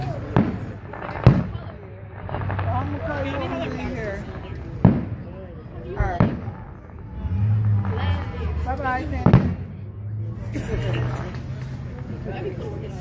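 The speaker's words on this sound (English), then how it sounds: "Don't fireworks go like 20 minutes?" Fireworks at a July 4th display in Independence, Ohio, crack sharply and boom at irregular intervals, some close together, under steady nearby talk from onlookers.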